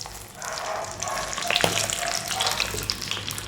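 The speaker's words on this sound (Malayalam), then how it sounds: "ആദ്യം നമുക്ക് ഈ തേങ്ങാക്കൊത്തൊന്ന് വറുത്തെടുക്കാം" Pieces of coconut fry in a mix of sunflower and coconut oil in a pan, giving a continuous close sizzle with faint stirring and a brief clink partway through.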